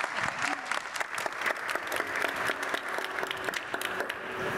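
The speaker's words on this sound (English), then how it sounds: "So can we hear some energy, some round of applause?" A round of applause from an audience at a Monday morning demo day event, steady dense clapping throughout with a few faint voices and whistles mixed in.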